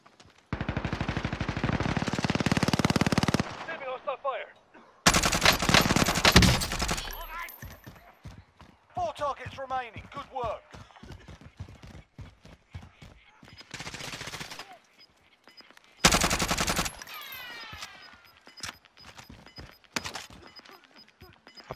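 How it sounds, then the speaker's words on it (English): Gunfire in a battle royale video game: repeated loud bursts of rapid automatic fire and separate single shots, broken by short quiet gaps, with voices speaking between the volleys. "He's shooting at one up there again."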